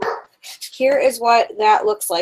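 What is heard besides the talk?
dog barking and whining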